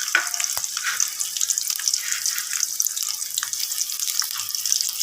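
Two medium onions frying in about three-quarters of a cup of hot oil in a karahi, a steady bright hiss with scattered crackles and pops, close and even throughout.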